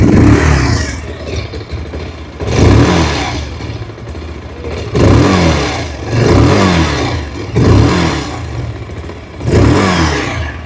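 A 2026 Bajaj Pulsar 180 motorcycle with an E20 engine idles nearby and is revved repeatedly, loud throttle blips rising and falling about every two seconds over a steady rumble.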